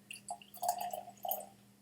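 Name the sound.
pouring Tyrconnell Madeira finish Irish whiskey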